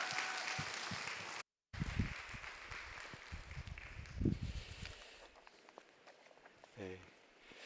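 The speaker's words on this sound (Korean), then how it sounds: "여러분 큰 박수로 맞아주시기 바랍니다." A church youth-service congregation claps to welcome a pastor to the pulpit, a dense wash of hand claps that fades out over several seconds, with a voice entering near the end.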